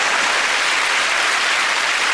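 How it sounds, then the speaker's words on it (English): A studio audience at a TV quiz show clapping in a dense, steady wash of applause, loud and unbroken, with no voices on top. "And this round of applause."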